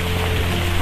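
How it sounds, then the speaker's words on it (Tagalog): Rain falling, a steady dense hiss of drops with a low rumbling undertone, continuous and fairly loud over a very short stretch. "Kahit umuulan po tayo, umuulan po ngayon."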